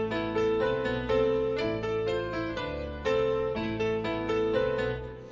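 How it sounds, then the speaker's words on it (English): A bright synth melody plays over a full dark hip-hop sample arrangement in FL Studio, sustained harmonic chords and a retro-toned guitar layer shifting every second or so, loud and dense with no talking. "And the bright melody with everything else sounds like this."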